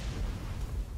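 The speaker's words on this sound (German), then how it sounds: "Das ist die Explosion." An explosion in Destiny: a heavy, rumbling blast with a dense low-end roar that stays loud and sustained throughout, with no pause or quiet.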